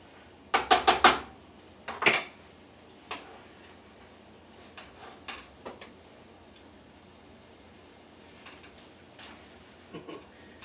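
Food flopping and clattering in a small cooking pan, a burst of quick metallic rattles and clanks early on, then sparser soft knocks and taps against a quiet kitchen background.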